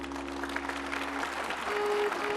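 Audience applause at a Hindi yoga and Ayurveda discourse, steady dense clapping from a large crowd throughout, fairly distant with a faint tonal hum underneath.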